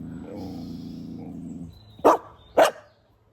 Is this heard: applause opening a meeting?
no